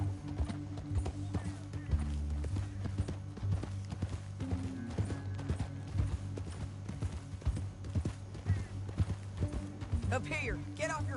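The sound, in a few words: horse hooves clip-clop in Red Dead Redemption II video game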